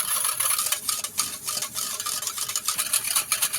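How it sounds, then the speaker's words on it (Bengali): A milk mixture is stirred nonstop in a pan to cool it, giving close, rhythmic scraping and swishing strokes that rise and fall in quick succession with no talking. "অনবরত নেড়ে চেড়ে আমি একদম এটাকে ঠান্ডা করে নেবো"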